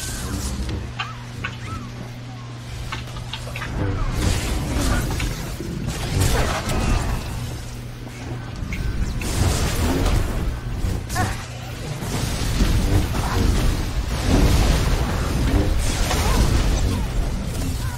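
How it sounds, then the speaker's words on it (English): Gun battery firing in a Star Wars: The Old Republic warzone on Alderaan, a dense, busy run of blasts, whooshes and crashing impacts layered over a steady low hum. "Gun battery firing."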